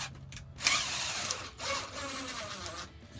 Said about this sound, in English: screwing them up into that fiberglass that holds them in place